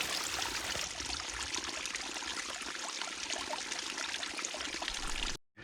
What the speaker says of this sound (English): I actually found a wet waterfall in the desert. See, there's water dripping all the way up there